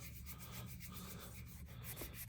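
Polish being rubbed into a leather shoe by hand, soft close scuffing strokes repeating in an uneven rhythm, faint and alone without talk.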